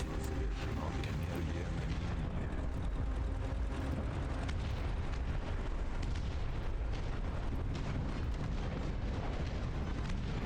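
Artillery shelling with area-of-effect explosions in the Dust Front RTS war game, a constant heavy rumble of booms and bursts rolling on without a break, loud and dense from start to finish.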